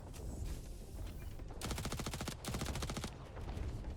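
Rapid automatic gunfire in the space shooter game Jump Space, fired to shoot an attached mine off a ship, with two dense bursts of fast repeating shots, loud and close, over a low engine rumble.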